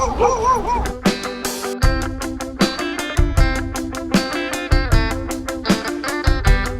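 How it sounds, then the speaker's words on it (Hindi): Dogs bark at night along a roadside on an overland journey toward Bangkok, sharp repeated yaps coming in a fast, steady run, with a whining, wavering cry at the start, fairly close and loud. "कुत्ते भौंक रहे हैं भाई।"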